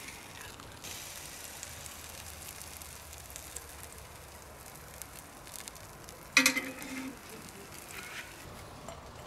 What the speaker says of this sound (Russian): Но вроде как жарится.